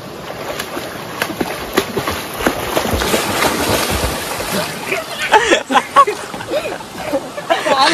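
People splashing and sloshing in water at the start of a breath-holding contest during a Konkan village Ganesh Chaturthi visit, with irregular close splashes and voices mixed in throughout.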